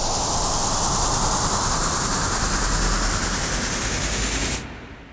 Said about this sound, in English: So instantly we have a cool rising effect with some added character and some added movement